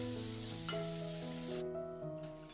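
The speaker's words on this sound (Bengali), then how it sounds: "পেঁয়াজটা একটু নাড়াচাড়া করে নেব" Onions fry in a pan with a faint, soft sizzle while being stirred, quiet and steady for a couple of seconds.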